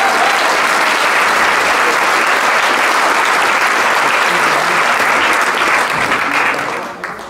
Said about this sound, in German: Ein großartigen Applaus für unsere Konstantinien